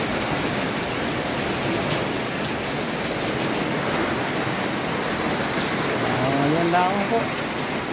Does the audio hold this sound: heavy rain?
yes